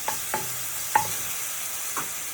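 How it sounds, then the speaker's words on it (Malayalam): Fresh ginger-garlic paste with salt sizzles in a pan under a steady hiss, with a few soft spoon scrapes and stirring knocks spaced through the quiet frying. "ഇത് നമുക്കൊന്ന് വഴറ്റിയെടുക്കാം"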